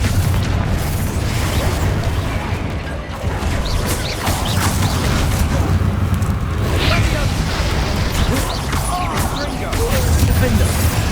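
A Confringo blasting spell explodes in the Hogwarts Legacy video game with heavy booming bursts and crashing debris amid battle noise, while a voice talks over it.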